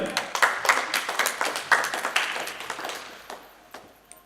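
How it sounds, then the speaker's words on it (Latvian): Applause for Santa at a live contest show: a short burst of crowd clapping, dense and fairly close, that thins out and fades toward the end. "Aplausis Santai."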